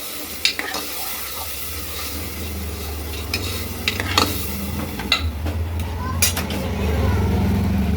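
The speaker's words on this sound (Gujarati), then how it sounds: "હવે આપણે સારી રીતે મિક્સ કરી લઈશું" A spoon stirs masoor dal in a pot with hing, ginger-garlic paste and a splash of water, a soft sizzle running underneath as scattered metallic clinks and scrapes sound against the pot's sides.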